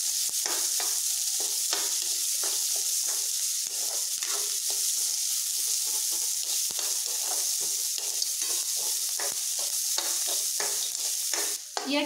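Onions fry until brown for a restaurant-style cashew curry, with a continuous close sizzle and repeated scraping and stirring strokes from a spatula in the pan.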